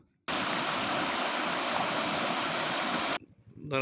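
Flood water is rushing through a waterlogged rural area in Byndoor, Karnataka, after heavy rain, producing a loud, steady roar that starts abruptly and cuts off near the end.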